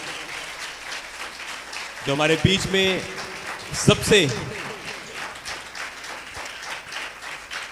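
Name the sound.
congregation clapping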